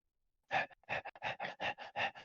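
A person imitates a wolf panting with a run of quick, rhythmic breathy huffs, close and clear, about eight bursts in a row.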